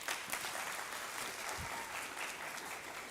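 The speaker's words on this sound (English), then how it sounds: "Please join me in giving a big round of applause" Audience at a manufacturing leaders summit applauding a keynote speaker, a dense steady wash of clapping from a sizable crowd for a few seconds.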